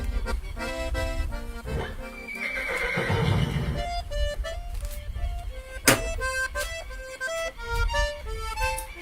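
A horse neighs loudly and close in a rural ranch setting, with a drawn-out whinny over light hoof clip-clops and other background sounds.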